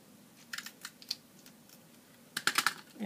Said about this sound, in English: I'm just going to punch out a piece of scrap gold foil